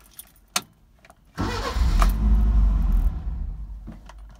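A Mercedes-Benz 190SL with its choke pulled out follows a few small clicks with a cranking catch that settles into a loud, rough idle up close, then drops back near the end.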